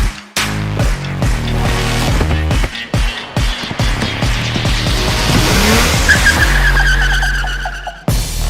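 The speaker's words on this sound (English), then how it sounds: "Rally car, baby. Typical rally car." A rally car on a gravel stage test day roars loudly as its engine revs rise and fall, with tires skidding and squealing through corners and a steady rising whine near the end, no voices.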